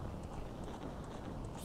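Hooves of Ganondorf's black horse in Zelda: Ocarina of Time beat out an even galloping clip-clop, moderately loud and unbroken for under two seconds against a dense game soundscape.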